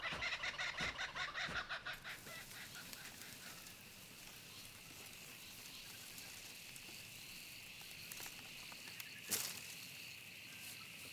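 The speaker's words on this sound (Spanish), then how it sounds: "Las cucaburras, las aves pescadoras más grandes de Australia, famosas por su risa." Kookaburras, Australia's largest kingfishers, give their loud, rapid laughing call in a forest, a rhythmic cackle that fades after about two seconds and leaves insects droning in the background.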